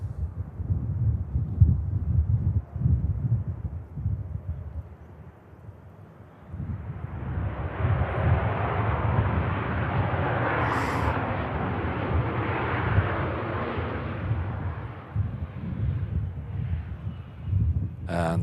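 A Boeing 747 arriving at Manchester Airport on runway 23 right, its jet roar swelling from far to near over several seconds above a low rumble of wind noise, then fading slightly.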